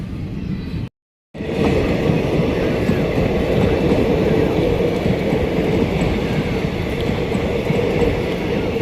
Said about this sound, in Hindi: ये देखो भाई, रेवाड़ी से रिंगस जाने वाली ट्रेन